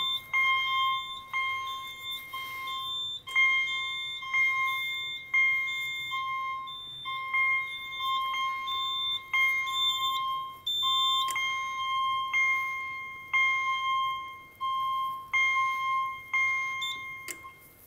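A Simplex 4010 fire alarm panel in alarm gives repeating electronic beeps in a steady, evenly spaced rhythm, sounding clearly and fairly close with no talking.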